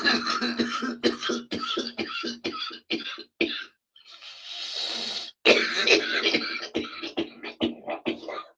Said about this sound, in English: I didn't mean to cough like that